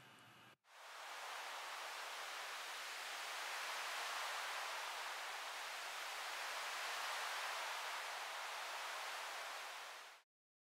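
Synthesized wind built from purple noise shaped by high-pass and low-pass filters with reverb, a steady broad hiss that swells gently and then cuts off abruptly, alone and fairly quiet.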